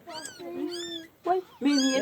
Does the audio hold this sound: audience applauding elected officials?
no